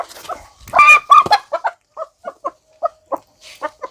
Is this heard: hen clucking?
yes